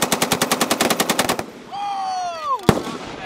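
Rapid automatic gunfire bursts out in a fast, even string of loud, close shots at a military shooting range, then stops; a descending whistling whine follows before one more sharp single crack.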